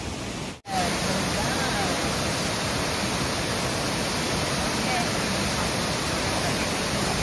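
Inglis Falls, a waterfall near Toronto, roars as a steady, loud, unbroken rush of water, interrupted only by a split-second dropout near the start.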